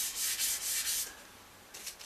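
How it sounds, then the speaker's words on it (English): Careful hand sanding of the oiled finish on a Stratocaster guitar body, done with abrasive held against the back of a hand, giving a close, soft, rhythmic swishing in several strokes that pause briefly before resuming. "At the moment I'm just going to be rubbing down very carefully, trying not to undo all my good work so far."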